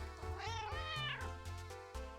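A cat in the video game Enigma Heart gives a clear, drawn-out meow with a rising and falling pitch, close and loud, with no speech over it.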